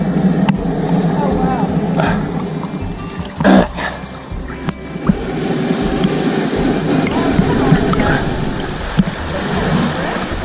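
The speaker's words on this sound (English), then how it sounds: "Check this out. The blowhole blowing air out." A sea cave blowhole on the Italian coast gusts air outward in a broad, rushing whoosh over steady surf and churning water, with a few sharp bursts; people talk and exclaim over it.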